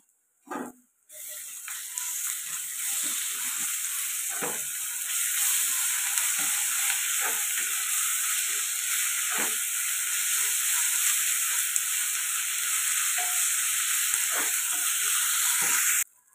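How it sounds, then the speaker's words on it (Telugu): Ginger garlic paste frying in a pan for chicken curry, a loud, even hissing sizzle that holds for many seconds, with faint scattered taps of stirring underneath, then cuts off abruptly. "ఇక్కడ ఒక పెద్ద స్పూను అల్లం వెల్లుల్లి పేస్ట్ అయితే వేసుకుంటున్నాను. ఇది పచ్చివాసన పోయేదాకా ఫ్రై చేసుకున్నాం"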